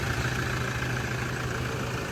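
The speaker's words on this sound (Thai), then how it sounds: "สตาร์ทเครื่องเป็นที่เรียบร้อยนะครับ รอบเครื่องยนต์เดินเบาเรียบนะครับ" Toyota Vigo Smart Cab 3.0 pickup engine idling smoothly, a steady low hum with a constant mid-range drone that holds unchanged from start to finish, with no talk over it.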